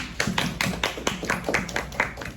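A classroom audience gives a sparse round of applause, a handful of close, distinct claps at an uneven rhythm rather than a full ovation.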